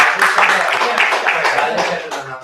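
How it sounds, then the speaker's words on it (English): At a civil society talk on climate change in India, the audience breaks into a close, lively round of clapping, with some talk mixed in. "A round of applause"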